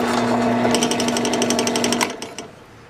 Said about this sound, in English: Like for this I'm using cobalt steel drill bits.